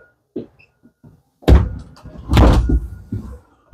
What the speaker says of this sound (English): Open this door, you take a step into the bedroom.